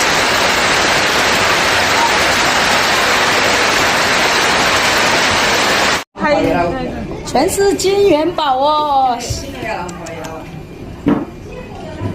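Hail and rain from a storm pour down over a Chinese city in a dense, steady roar for about six seconds. The sound cuts off abruptly, and people talk for the rest of the clip.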